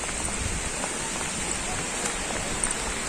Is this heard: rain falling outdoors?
yes